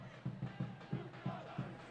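A soccer stadium crowd at a Tacoma Defiance home match against Portland Timbers 2 chants in a steady rhythmic beat, roughly six evenly spaced shouts or claps from the stands, moderately distant.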